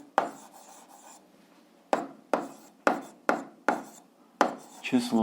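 Chalk or a pen writes on a board during an algebra lesson: about eight sharp, scratchy strokes in an uneven rhythm, close and fairly quiet, with a brief word spoken at the end.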